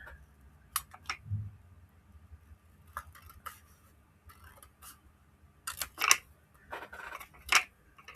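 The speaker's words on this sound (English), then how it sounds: "you can do it with the scissors. So I'm just going to cut it." Quiet, scattered snips and crisp cutting sounds, irregular and close, with soft rustling between, growing a little busier toward the end.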